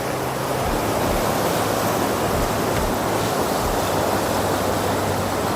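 Water from a waterfall near Hampi, Hospet rushes past close by as a loud, constant roar of flowing water that stays steady and unbroken.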